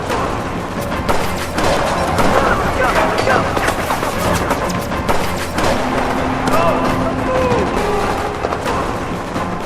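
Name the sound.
gunfire in war film battle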